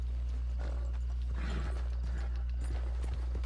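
Horse hooves clopping in Red Dead Redemption 2, a quiet irregular run of soft hoof beats over a constant low hum and faint mechanical clicks.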